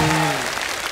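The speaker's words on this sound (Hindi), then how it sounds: "एक बार फिर से जोरदार तालियां हो जाएं।" A television comedy show's studio audience breaks into a short burst of dense clapping right after a voice trails off.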